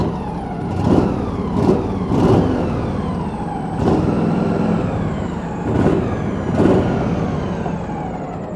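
A snow-plowing truck engine idles with a deep rumble and is revved in several sharp bursts, each surge dropping back down, loud and close.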